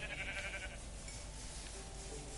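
A sheep bleats in the video game Minecraft, a faint wavering baa half-buried in a steady wash of background noise.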